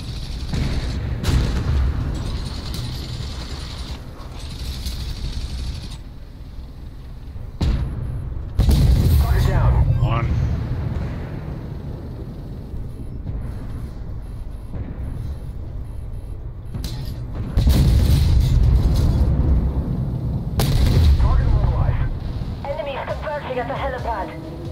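Heavy tank cannon shots from Armored Warfare thump out as a few loud, separated blasts over a droning engine rumble, with someone talking in between.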